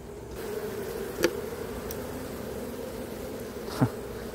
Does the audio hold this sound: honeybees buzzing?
yes